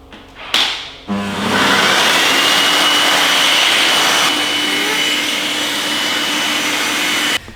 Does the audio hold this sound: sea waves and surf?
no